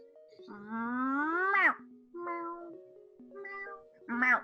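A human voice imitates a cat, giving a long drawn-out meow followed by three shorter meows with pauses between.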